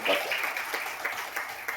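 An audience at a traders' meet and comic poetry gathering breaks into applause, with brisk, close clapping running under a voice that talks over it.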